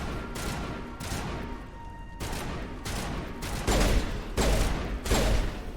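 Gunfire in Mass Effect Legendary Edition, a series of loud broad bursts and volleys spaced roughly a second apart, growing heavier toward the end over a constant game background.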